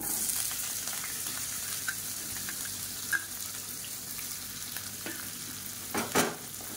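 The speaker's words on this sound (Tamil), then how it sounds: "வெங்காயம் நல்லா பொன்னிறமாக வதங்கட்டும்" Chopped big onions and small onions sauté in a pan as the base for a tomato curry, giving a steady close sizzle with a few light stirring clinks and no talking.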